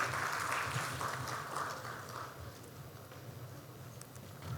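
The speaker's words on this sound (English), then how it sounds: "Can we have a round of applause" Applause from the audience at a conference panel on digital innovation for smart hospitals. It is fairly soft and diffuse and fades gradually over a few seconds, with no speech over it.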